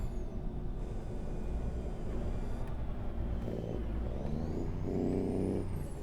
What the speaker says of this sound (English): this truck sounds good